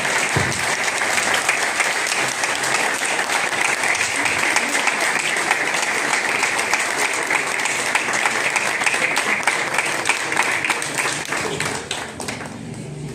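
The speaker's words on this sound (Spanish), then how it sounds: "una ovación a todo Teciutlán" An audience at a bullfighting presentation event gives a sustained ovation, dense steady clapping from a large crowd that fills the whole span and tapers slightly at the end.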